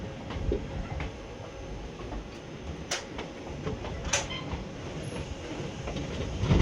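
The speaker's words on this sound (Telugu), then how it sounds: "మన ట్రైన్ స్టార్ట్ అయిపోయింది." A passenger train pulls away on its run toward Kaikaluru, carriages rumbling low and steady with occasional sharp metallic clicks and squeals, the rolling noise growing slightly louder toward the end.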